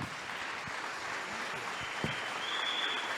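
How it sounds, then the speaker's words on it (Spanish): Congregation clapping as an offering of praise during a sermon, a faint, steady wash of applause from a distance with a few sharper claps standing out. "Denle una ofrenda de palmas a su Señor"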